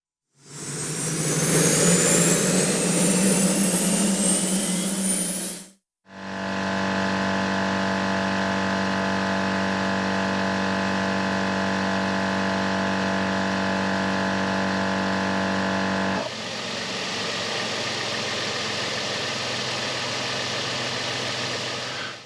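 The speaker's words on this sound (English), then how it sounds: "I've already got the compressor hooked up to the battery up here." A Pro-Flate Gen 2 portable 12V air compressor, wired to a battery, runs for tire inflation: a loud startup burst, then a steady droning hum with a fixed tonal whine, shifting slightly in pitch near the end.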